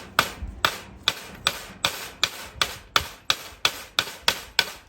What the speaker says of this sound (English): Just hit it until it comes out.